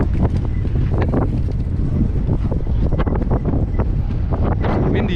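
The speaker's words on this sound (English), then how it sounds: "Windy out there." Wind buffets the microphone outdoors during an e-bike ride, a steady low rumbling roar that persists for the whole stretch with no talking.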